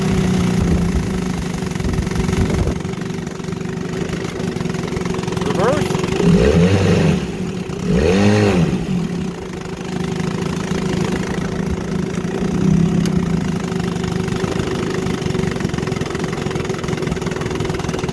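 A 1963 Evinrude Sportwin 10hp outboard motor idles steadily in a test tank on a cold 25-degree day, a close, even mechanical hum with a couple of brief surges in the middle.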